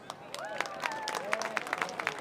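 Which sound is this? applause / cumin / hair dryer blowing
applause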